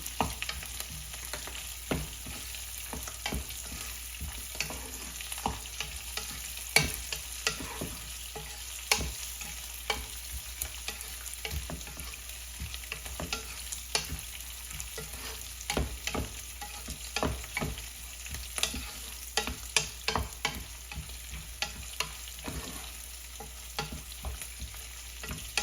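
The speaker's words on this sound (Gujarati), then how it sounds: "હવે આપણે આ જે શેકેલા સિંગદાણા છે એ નાખીશું ને ધીમા તાપે શેકાવા દઈશું" Roasted peanuts stir-fried in a pan over a low flame, a steady soft crackle with frequent light scraping clicks from stirring, no voices.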